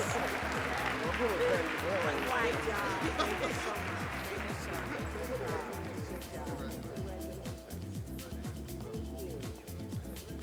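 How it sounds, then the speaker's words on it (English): Sustained applause from an awards-ceremony audience at an academic excellence event, steady dense clapping throughout with voices and crowd noise mixed in, thinning slightly toward the end. "Let's have a round of applause for Region 3"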